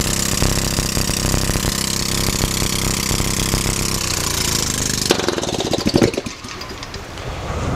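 A loud hydrogen-fueled engine runs with a rapid, rough, hammering rhythm, then cuts off abruptly, leaving clattering and fading mechanical noise.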